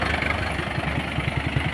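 A 2015 model 575 tractor engine idles nearby, a loud, steady low chugging with a rapid even pulse and no talk over it.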